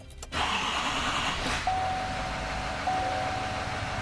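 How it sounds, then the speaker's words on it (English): A 2018 GMC Sierra 2500 pickup truck engine cranks briefly and catches, then settles into a steady, fairly loud idle with a thin electronic chime tone appearing twice over it; no talking. "And if we turn our truck on,"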